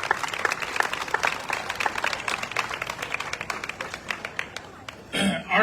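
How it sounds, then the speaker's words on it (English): A crowd claps steadily at the 2025 Jackson Apple Festival's Red Coat Club presentation, a dense, even round of applause that thins out near the end before a brief louder burst of other noise. "Give Kurt another big round of applause"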